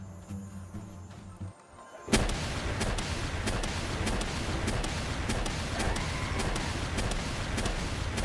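Rocket launcher fire from a Pal in the Palworld video game: after a quiet lead-in, a loud blast hits at about 2 s, followed by a sustained dense barrage of repeated booms and cracks that continues to the end.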